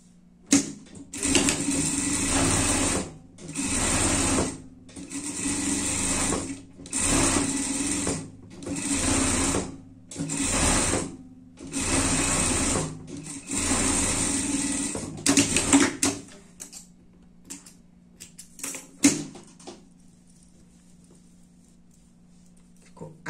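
A sewing machine running a seam along a hood lining for a small pet outfit, about seven steady bursts of rapid stitching separated by brief pauses, then quiet fabric handling near the end.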